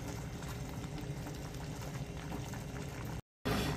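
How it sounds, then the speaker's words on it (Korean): Plantain greens blanching in a pot of boiling water give a steady, dense bubbling hiss that runs continuously, broken only by a split-second gap near the end. "끓는 물로다가 이렇게 이제 질경이를 데치는 과정이 되겠습니다."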